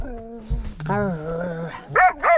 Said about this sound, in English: No need to bark like that.